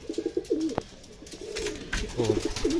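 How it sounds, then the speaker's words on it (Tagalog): A racing pigeon at a derby loft, with a reported eye cold, gives repeated close, fairly loud coos in short throaty phrases, accompanied by some background rustling. "Ayan, last bird natin si Saddle."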